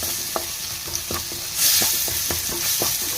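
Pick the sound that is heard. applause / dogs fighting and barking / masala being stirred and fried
masala being stirred and fried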